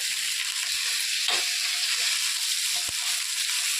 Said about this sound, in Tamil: கருவேப்பிலை போட்டுக்கிட்டோம், ஒரு பச்சை மிளகாய், வெள்ளைக்கூடுங்க, பச்சை மிளகாய் போட்டு நல்லா தாளிசம் பண்ணிக்கிட்டோம்.